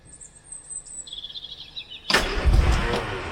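A rare 1968 Riley Kestrel barn find is cranked on its first start attempt. Birds chirp quietly over a hush, then a sudden loud rush of engine noise bursts in and carries on.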